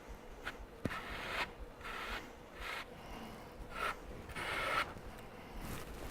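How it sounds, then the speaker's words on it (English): A trowel spreads adhesive across the back of an acoustic ceiling panel in soft, repeated scraping strokes, with one brief knock near the start; faint and close, with no voices. "You're applying glue just to getting on the back of the board, buttering it, and then creating your dimension for the height with the trowels."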